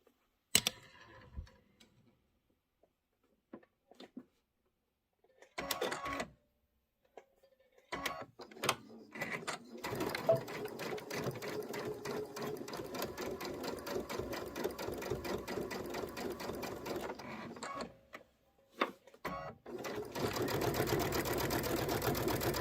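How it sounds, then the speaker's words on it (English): A sewing machine stitches quilt sections together, its rapid mechanical chatter running in bursts that grow into a long continuous run, with short pauses and a few handling clicks between. "I'm just going to kind of hold it together and sew."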